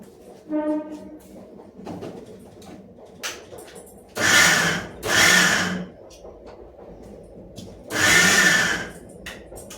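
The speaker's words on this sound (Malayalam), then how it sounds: "മിക്സിയിലൊന്ന് അടിച്ചെടുക്കട്ടെ" A kitchen mixer grinder blends green chillies and other ingredients in three loud, whirring bursts of about a second each, separated by quiet gaps and faint handling knocks.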